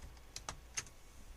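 Several quick, light clicks of a computer keyboard as the Control K shortcut is pressed, three or four close taps spaced a fraction of a second apart over faint background hiss, with no talking.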